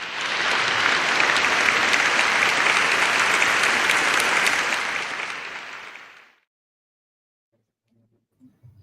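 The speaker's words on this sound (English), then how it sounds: "I love that applause" Steady audience applause at a protest gathering, loud and dense for about six seconds before stopping abruptly, leaving near silence with faint sounds afterward.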